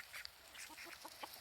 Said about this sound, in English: And of course, our duckies.